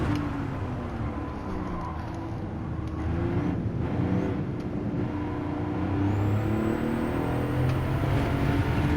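A car engine revs and eases off repeatedly as the throttle is feathered during a National A license test in a racing video game, with a steady motor drone and a rising tone near the end.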